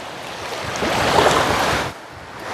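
Waves break on a sandy beach at Suan Kluai Thong, Laem Klat, Thailand, a broad hissing surge that swells, holds, then drops off as the wash recedes, with some wind noise.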